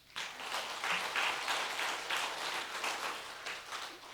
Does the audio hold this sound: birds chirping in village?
no